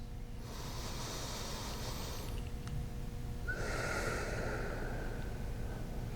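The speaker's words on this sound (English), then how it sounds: "Nice big inhales and long, slow exhales." Deep guided breathing during a fitness session: two long, airy breaths, each a big inhale and a slow exhale, heard close and steady against a constant background hum, with no talking.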